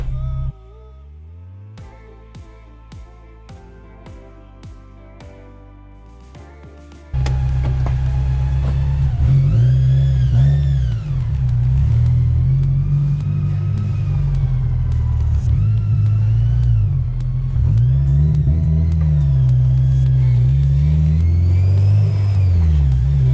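A Honda S2000 with a previously blown transmission sets off on a drive. After a quiet opening of faint tones, a loud, close engine rumble starts and repeatedly rises and falls as the revs climb and drop.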